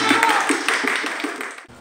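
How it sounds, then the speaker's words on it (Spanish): Students at a special-needs music training session clap together in a short, ragged burst of applause, with voices mixed in. "Un aplauso."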